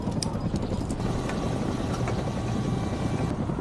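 A helicopter receiving a critically ill patient with a brain hemorrhage for emergency transport, its rotor and engine making a steady, loud, dense roar throughout with no break.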